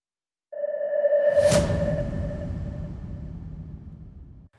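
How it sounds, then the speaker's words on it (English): A heavy cinematic impact hits after a short silence, followed by a long, ringing tonal tail and low rumble that slowly decays. "So I wanted the risers and the impacts to be very serious."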